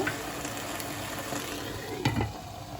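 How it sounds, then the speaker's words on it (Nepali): Fenugreek seeds fry in ghee in a pan and are stirred, giving a soft, steady sizzle and crackle with a brief scrape of stirring near the end and no talk. "यसरी घिउमा मेथी राखेपछि चलाइकन भुट्नुपर्छ।"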